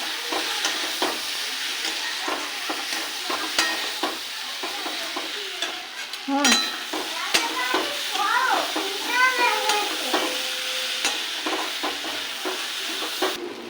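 Egg curry masala is sautéed in a pan, a steady soft sizzle broken by frequent scraping and stirring clicks of a spatula, with faint voices and a brief cat-like meow in the background.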